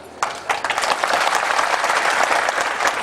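Dense audience applause bursts out after a brief quiet start and stays loud and steady at a minister's speech at a public gathering in Rahuri over the Nilwande dam works.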